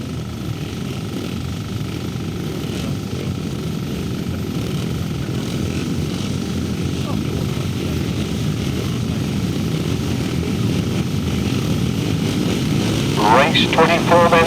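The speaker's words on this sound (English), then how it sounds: "somebody's got revving on the line and somebody's got a sick bike" Grasstrack racing motorcycles, 350cc class, revving on the start line at a Worcester meeting, a loud continuous engine drone building slightly in intensity, with an announcer talking over it and a brief burst of revs near the end.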